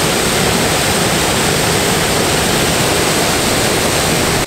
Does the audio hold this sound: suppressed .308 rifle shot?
no